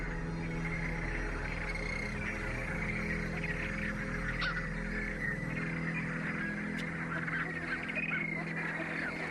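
James's flamingo flock calling on a toxic lake, a dense continuous honking chorus of many birds at middle distance with a steady low background hum, no voices.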